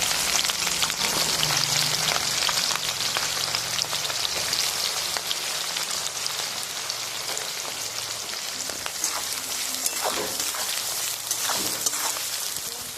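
About 250 g of chopped onions fry in oil with bay leaves in a pan for a Bengali mutton curry, giving a steady, dense crackling sizzle like rain throughout, with no talking.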